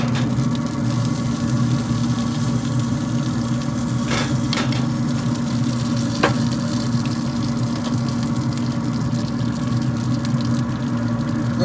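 Chicken on a smoker being basted with honey Aleppo sauce gives a steady, close sizzle under a constant humming drone, with a few faint clicks and no talking.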